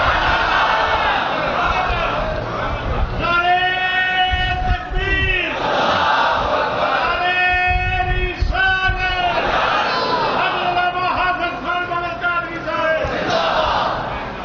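A large crowd at a religious gathering chanting slogans in unison, loud rhythmic bursts of many voices rising and falling in repeated phrases, with a leading voice calling between the responses.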